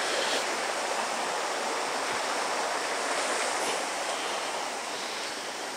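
A small woodland creek runs over rocks with a steady, broad rushing and splashing that stays close and even throughout.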